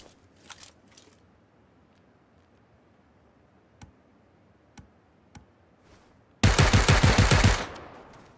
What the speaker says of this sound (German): Hat wahrscheinlich jeder Schuss jetzt gerade getroffen